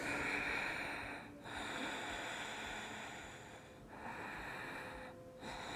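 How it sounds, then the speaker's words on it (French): Breath drawn in and let out during a yoga flow for glutes and legs, soft and close, a continuous airy hiss in three long waves with short pauses between. "Inspirez."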